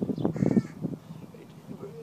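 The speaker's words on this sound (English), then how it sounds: "What the fuck are they doing, those crows?" Crows caw in a quick burst of several harsh calls at the start, then fade into fainter, scattered caws; a voice may be faintly present.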